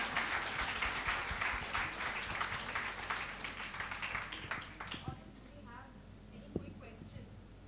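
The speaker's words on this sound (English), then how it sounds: "a big hand of applause" Applause from the audience at a NASSCOM Women Product Champions Summit, fairly faint steady clapping that fades out midway, followed by quieter room sound with a voice starting.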